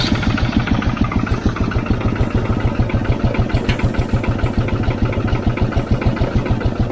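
A Fiat 55-66 4wd tractor engine runs with the PTO engaged, a loud, steady, close-up diesel chug with even rapid pulses and mechanical clatter throughout.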